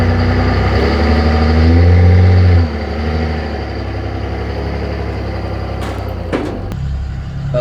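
A Cummins diesel engine in a 1969 Ford dump truck runs loud and close with a steady low idle-like rumble, rising briefly then settling, with a few sharp clanks near the end.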